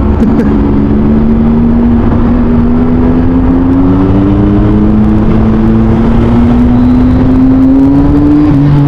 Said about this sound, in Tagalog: Diba talaga tunog ng big bike, ano?